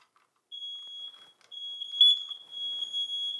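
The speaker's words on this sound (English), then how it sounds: "That low battery chirp on your fire detector?" A household smoke detector sounds a piercing high electronic tone, starting after a half-second of silence and holding in long, loud, nearly continuous bursts with a brief break.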